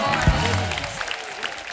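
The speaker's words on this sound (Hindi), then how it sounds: "एक बार हमारी सर्कस की पूरी स्टार कास्ट के लिए जोरदार तालियां हो जाए।" Applause from an audience for a circus star cast, a broad steady wash of clapping that carries on behind a voice, with a thump near the start.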